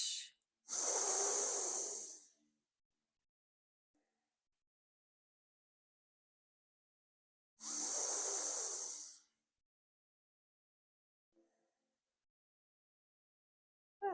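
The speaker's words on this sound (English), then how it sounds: "Full deep breaths in" Deep breathing during a yoga stretch: two long, slow, airy breaths close to the mic, each lasting about two seconds and separated by a long stretch of near silence.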